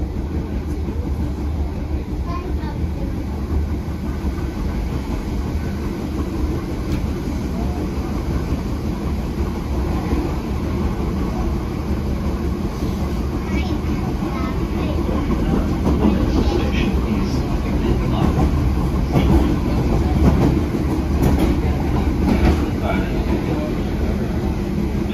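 Onboard an Irish Rail Class 8100 EMU between Greystones and Dublin Connolly, a steady rumbling ride with faint rhythmic wheel clatter and rattles grows slightly louder, while quiet voices murmur underneath.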